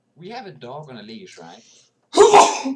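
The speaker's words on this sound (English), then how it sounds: "Gesundheit." A single loud, close sneeze bursting out right after a man's short spoken question, breathy and explosive, ending abruptly.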